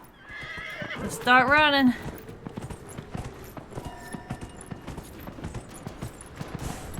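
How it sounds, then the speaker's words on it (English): In the Dragon Age Inquisition video game, a horse gives a loud whinny early on, followed by a steady run of clip-clopping hooves, with someone talking over the sounds. "Alright, let's get back on the horsey."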